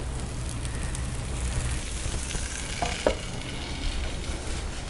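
Moong dal dosa cooking in oil on a pan, a continuous close sizzle with occasional small pops and light scraping clicks, alone without talk.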